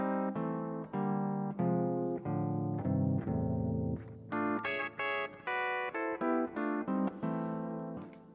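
Kemper chromatic pitch shifter on guitar, two voices shifted down five and up three semitones, a sequence of harmonized notes and chords with abrupt changes, moderately loud and alone.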